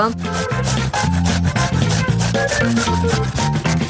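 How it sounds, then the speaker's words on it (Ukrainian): Rapid, rhythmic scraping of cheese against a grater in a kitchen, steady back-and-forth strokes close up and fairly loud, with no voices. "І натерти смачного сиру."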